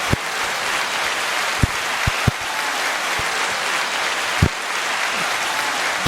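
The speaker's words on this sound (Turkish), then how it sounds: "Yeter bu kadar alkış fazla yani" Steady applause from an audience at a live stream, a dense continuous patter of clapping with a few sharper claps standing out, filling the whole stretch without talk.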